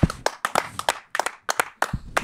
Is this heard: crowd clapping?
yes